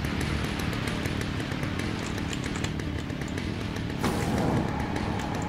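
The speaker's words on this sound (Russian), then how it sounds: "Сейчас зацикленный звук бензопилы" A looping chainsaw buzz from the video game Alan Wake: The Signal drones steadily and loud throughout, with a brief shift in tone near the end.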